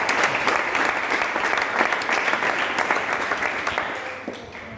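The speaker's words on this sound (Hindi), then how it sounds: "ताली बजाओ इसके लिए बढ़िया।" Sustained audience applause at a spiritual class session in an ashram in Kota, a dense steady clatter of many hands that holds strong and then tapers slightly toward the end, with no talk over it.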